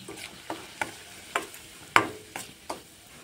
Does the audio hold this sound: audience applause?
no